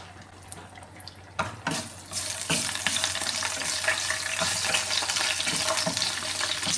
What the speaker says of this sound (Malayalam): ഇനി കാഷ്യൂ മുന്തിരി ഒന്ന് വറുത്തെടുക്കാമേ